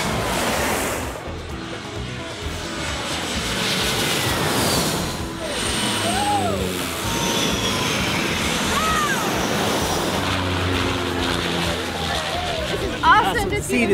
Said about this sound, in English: See the jets flying over.